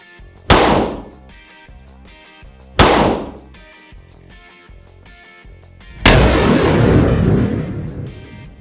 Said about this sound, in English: So now we're going to do the 4-inch Glock 30S.